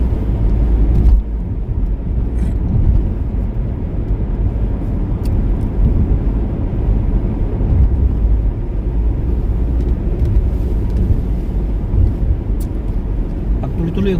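Heavy trucks rumble steadily along a snowy winter road in Canada, a continuous low, loud roar of engines and tires that persists throughout without pause.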